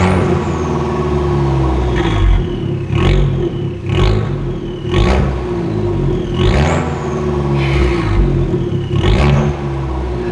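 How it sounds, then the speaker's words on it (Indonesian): Abarth petrol engine in sport mode with the exhaust valve open, revving in repeated sharp blips about once a second over a steady idle rumble, loud and close, with no talk. "dia akan membuka katup di exhaust untuk menciptakan suara yang lebih sangar"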